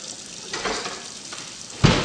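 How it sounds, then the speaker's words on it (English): Cold tap water filling a pot in a kitchen: a hissing, rushing stream that swells and eases in bursts, ending in a sharper, louder splash, close by with no speech. "I'm gonna fill another pot with fucking cold water"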